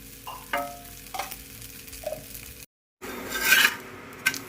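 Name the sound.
dosa frying in a pan with ghee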